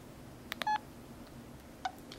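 Keypad dialing tones from an LG Chocolate Touch phone for Verizon: a quick cluster of short, clear beeps, then one more tone after a pause. They are fairly quiet and close, with no voices.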